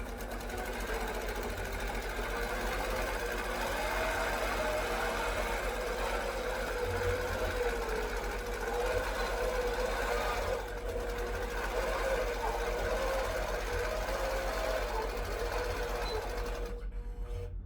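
A quilting machine stitches across a loaded quilt, a fast, even mechanical chatter running continuously and fairly quietly, with a short dip near the middle and a clatter as it ends.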